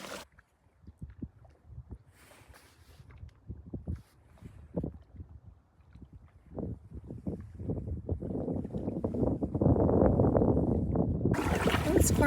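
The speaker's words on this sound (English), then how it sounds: "just paddling along here" A canoe paddled across Deer Raven Lake on a summer hot-tent trip: irregular soft paddle strokes and water sloshes, with wind buffeting the microphone and growing louder toward the end.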